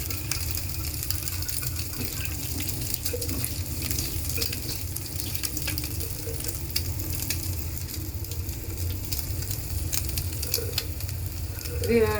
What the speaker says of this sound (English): Now bread is cooking.